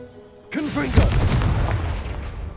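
A single booming blast from the Confringo fire spell in Hogwarts Legacy, striking a pile of blocking debris, erupting sharply after a brief lead-in and leaving a rumbling, crackling tail that fades out.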